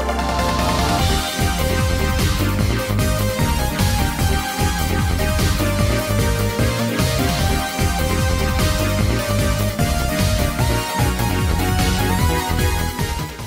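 Dense, loud video game music typical of a bullet hell shooter runs without a break, with busy layered synth melodies over a driving beat and no talking.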